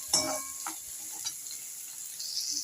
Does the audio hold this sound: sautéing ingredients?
yes